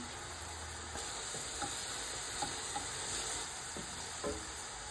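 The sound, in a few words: star anise spice sizzling in pan for chicken biryani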